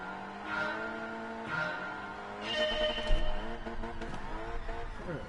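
An AMG car in Gran Turismo 7 revs hard in a drift session, its loud engine rising and falling in steady harmonic sweeps, with tyre squeal and a brief thump near the middle.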